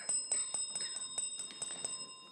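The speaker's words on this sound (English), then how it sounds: "And that sounds like the final bell." A quiz-match final bell rings at the end of the round, a rapid run of sharp metallic strikes, about ten evenly spaced rings in two seconds, loud and clear with no talk.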